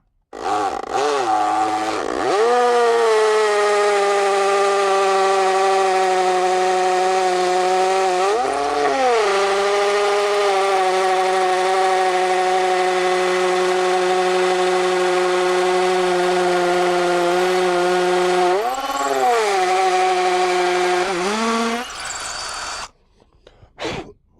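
A hammer drill bores into a concrete slab with a loud, steady whine, its pitch dipping briefly a few times as it bites in, then stopping near the end.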